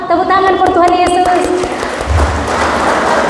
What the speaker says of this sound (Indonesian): Tepuk tangan for Tuhan Yesus.